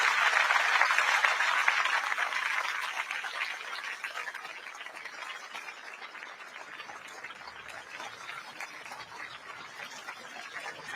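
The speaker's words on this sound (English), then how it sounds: "Outgoing Prime Minister Li显龙there, arriving to a round of applause from the audience." An audience on an outdoor lawn applauds as the outgoing Prime Minister of Singapore arrives at a swearing-in ceremony. The faint, distant clapping swells for the first few seconds, then settles into a steady, softer patter.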